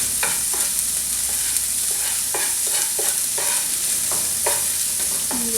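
Chopped onion softening in a frying pan, a loud constant sizzle close by, broken by regular scraping strokes of a spatula stirring roughly every half second, with no voices.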